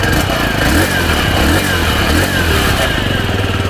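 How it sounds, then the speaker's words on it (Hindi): A 2025 TVS Sport 110cc ETFI motorcycle runs close by, its exhaust giving a loud, steady, throbbing engine note with a slight rise and fall and no talking. "टीवीएस स्पोर्ट्स का जो एग्जॉस्ट साउंड है वो आपको सुना देता हूँ।"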